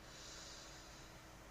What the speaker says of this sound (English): breathing in through your nose